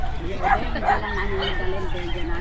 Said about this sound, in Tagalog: etong aso na to, rare dog to mga kadengalista